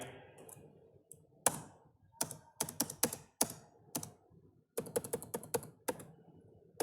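Python code being typed on a computer keyboard: bursts of sharp, close key clicks in quick irregular runs, broken by short pauses, with no talk over them.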